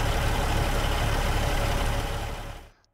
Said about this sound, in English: I think the engine sounds a little bit loud.